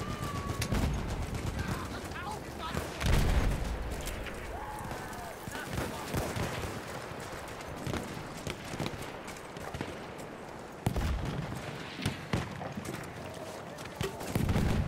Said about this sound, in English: We appear to be pinned down by about 500 snipers, it sounds like.